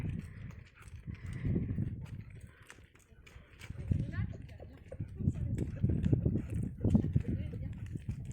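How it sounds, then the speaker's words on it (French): Horses shuffle and stamp inside a stable, steady hoof clops and movement noises rolling on throughout, with a voice speaking over them. "on va s'occuper de tous ces petits canassons qui sont là"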